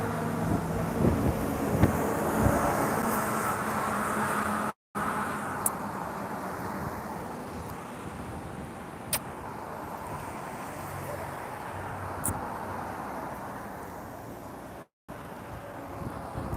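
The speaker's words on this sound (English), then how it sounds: "Damn, it's windy." Strong outdoor wind buffets the microphone in a constant loud roar with low rumbling gusts, and brief dropouts and faint ticks break through now and then.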